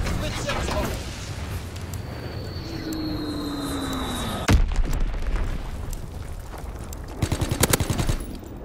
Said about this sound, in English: Dropping Blitz X bomb.